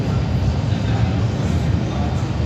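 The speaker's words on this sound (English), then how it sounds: "There comes the train." A train rolls slowly past near London Bridge, giving a steady low rumble with mechanical clatter. The sound is loud and constant throughout, with voices faintly underneath.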